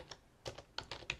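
Quiet typing on a computer keyboard while editing a Linux console config: a handful of soft, irregular key taps in a short burst, with no talk.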